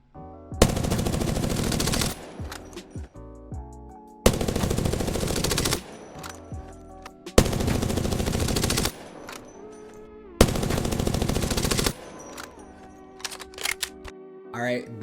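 A Prowler gun fires in Apex Legends in four sharp, evenly spaced bursts of rapid shots. Each burst lasts about a second and a half, with clicks and handling noises in the gaps and nobody talking.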